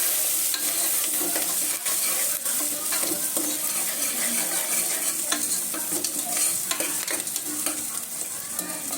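Steady, dense sizzling of raw, unboiled potatoes sautéing in oil with corn kernels for pulao, with occasional scraping clicks of a utensil stirring, continuous and close throughout.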